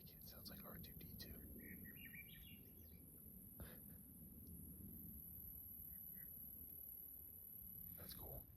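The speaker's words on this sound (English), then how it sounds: "That bird is so cool." Out on the Continental Divide Trail, a bird gives faint, distant electronic-sounding warbles and chirps like a robot's bleeps, in short scattered phrases over a steady low outdoor rumble.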